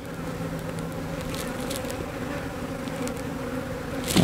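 Honey bees buzz steadily inside a hive that holds capped honey, a dense, continuous hum at moderate level, close and without speech.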